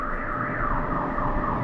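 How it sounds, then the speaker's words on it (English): Car alarm blaring continuously with a wavering, rising and falling tone, loud and steady throughout a short stretch. "My car, so many alarm."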